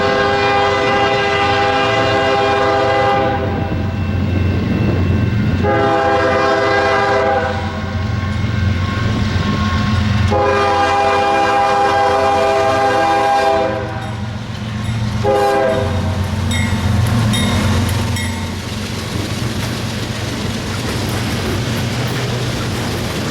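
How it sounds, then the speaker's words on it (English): A northbound freight train rolls past close by in Sanford, North Carolina, its horn sounding in several long, loud blasts over the steady rumble and clatter of the cars. "a northbound freight is heading our way"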